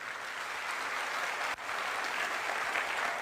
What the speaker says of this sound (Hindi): एक जोरदार तालियां होनी चाहिए।